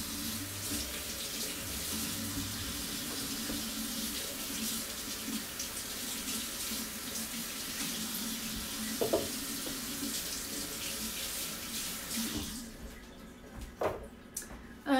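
Celery is washed under a running kitchen tap, a steady hiss of flowing water splashing into a sink for most of the stretch before it cuts off, leaving a few faint knocks and handling sounds at the end.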